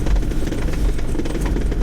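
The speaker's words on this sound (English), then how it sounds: "That noise you can hear, I think, is the mud flap from the chains." A vehicle fitted with snow chains grinds uphill on a snowy road, with a constant loud, rough engine and drivetrain rumble and chain and mud flap rattling running without a break throughout.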